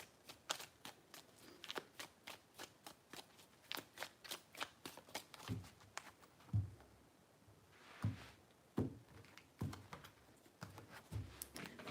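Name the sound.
tarot cards being shuffled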